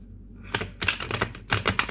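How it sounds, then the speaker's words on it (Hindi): A deck of tarot cards being shuffled by hand, heard as three or four crisp papery riffling bursts separated by brief pauses, close and fairly loud. "Let me shuffle the cards first and then start the reading."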